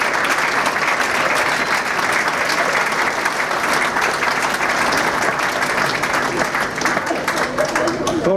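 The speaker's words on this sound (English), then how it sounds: "Big round of applause for our 1970s recipients." Loud, sustained clapping from an audience fills a volleyball club championship awards ceremony in New Zealand, dense and even from start to finish without any voices standing out.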